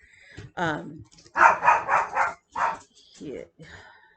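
A small dog under ten pounds lets out a quick run of sharp, high yapping barks close to the microphone, several in a row with short gaps, mixed with a person talking.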